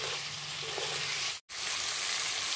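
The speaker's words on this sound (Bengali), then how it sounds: "5 মিনিট ধরে ভাজলেই কিন্তু এটা ফ্রাই হয়ে যাবে।" Chicken biryani ingredients fry in a pan with oil, giving a steady bright sizzle interrupted by one brief silent gap midway, close and alone without speech.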